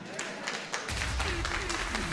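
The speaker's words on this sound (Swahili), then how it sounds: "Tumpige makofi." At a Kenyan medical laboratory officers' union gathering, an audience breaks into applause partway through, a dense rising wash of many hands clapping after a quieter opening.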